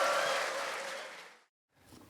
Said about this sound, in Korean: 다시 한번 스스로에게 박수 한번 부탁드립니다